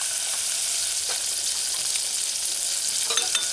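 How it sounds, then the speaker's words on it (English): Chunks of prepared codfish fry in hot oil for a stew with cauliflower and tomato, giving a steady, dense, close sizzle that runs unbroken throughout, with a few faint crackles and pops near the end. "Let it stay and fry on one side for about a minute or 2."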